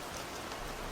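Rain falls in a dense, steady hiss that fills the whole moment, close and even, with no voices.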